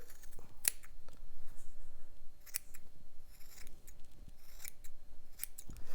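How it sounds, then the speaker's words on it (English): Scissors snip repeatedly while trimming a small yarn pom-pom, giving several crisp, close cuts at an uneven pace against a quiet room with no talking. "you can start trimming around it"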